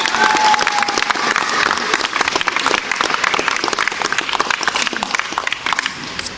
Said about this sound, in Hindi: तालियां सामने होना चाहिए।